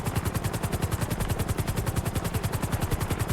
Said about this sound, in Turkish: Helikopterin dengesi şaşıyor. Uçmuyor helikopter.